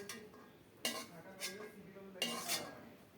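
A spatula scrapes across a wok as fried coconut, browned in mustard oil, is lifted out: two sharp clattering scrapes with a few softer metallic scuffs between them, close and fairly quiet, with no talk.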